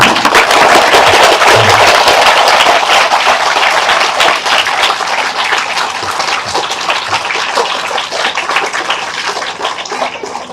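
A room of schoolgirls at a government tribal girls' school claps loudly and continuously, a dense close burst of applause that gradually eases in intensity toward the end.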